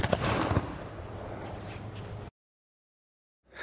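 A flintlock musket fired by soldiers in a drill: a loud, close blast with a sharp burst and a rumbling tail lasting about two seconds, then sudden silence before another noise begins at the very end.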